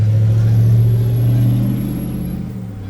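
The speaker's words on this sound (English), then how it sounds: "More traffic." A vehicle's engine rumbles loudly close by, then gradually fades as it passes.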